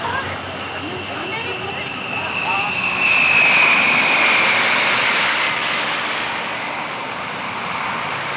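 A departing airplane at an airport roars steadily through the whole stretch, rising to a peak in the middle and easing off slightly, with faint voices in the background under the engine noise.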